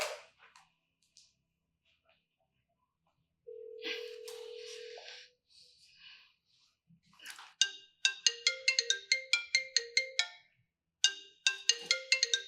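Telephone ringtone sounding in short repeated electronic chirping bursts, clear and close, following a few scattered tones and a brief steady beep earlier, with no speech.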